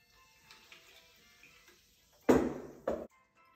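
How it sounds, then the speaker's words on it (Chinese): Soda water poured into a mojito glass gives a loud fizzing gush lasting under a second, then a second shorter splash after a brief pause, over near-silence. "加入苏打水一盎司"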